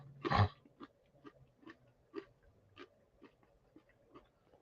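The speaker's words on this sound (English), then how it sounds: "If you hear me crunching, I'm sorry." Someone chews pizza close to the microphone, giving a loud first bite followed by a regular series of soft crunches and wet chewing sounds, with no talking.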